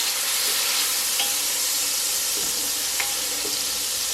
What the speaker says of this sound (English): And our crushed red peppers. Go ahead and stir this around.